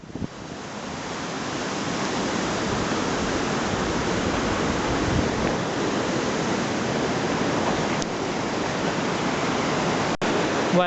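The River Garry rushes beneath a bridge on a Scottish hiking trail, a steady, loud, broadband roar of flowing water that holds constant throughout, with no talking.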